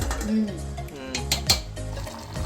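Pakodi curry stirred in a pot, with soft scraping and sloshing from the spoon and a few sharper clinks against the metal side, while someone talks over it.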